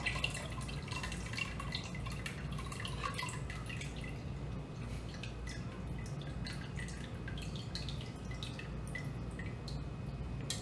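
Whey pours and drips while mozzarella is made, a continuous low trickle with scattered drips over ten seconds, quiet and steady with no voices.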